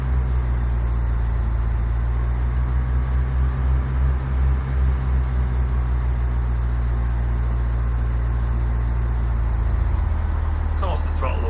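Steady droning engine of a Cessna 172 in Flight Simulator X, a constant low hum that holds evenly throughout, loud and close, with a faint brief chirp near the end.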